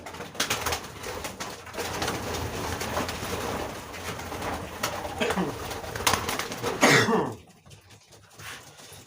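Racing pigeons coo in a loft, soft repeated calls up close, with a throat being cleared partway through before the sound drops off to quiet near the end.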